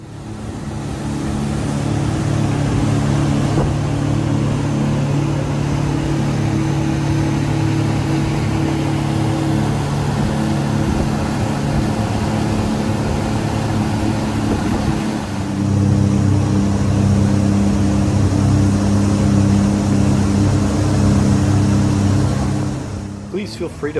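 A Scarab 215 jet boat runs on Rock Lake in spring, its engine a loud, steady mid-pitched drone that surges slightly partway through, with wind and water noise mixed in.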